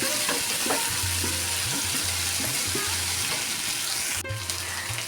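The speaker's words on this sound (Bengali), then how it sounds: "এভাবে ভালো করে ভেজে নিতে হবে চিচিংড়ার আলুটা" Steady loud sizzling of snake gourd and potatoes frying in a pan, with periodic scraping and stirring knocks throughout.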